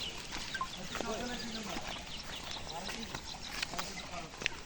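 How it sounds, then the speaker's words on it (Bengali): Ducklings peeping and cheeping in a rural outdoor setting in Bangladesh, with scattered high calls against a steady background hum and some faint talk. "হাঁসের বাচ্চাগুলো কত কিউট।"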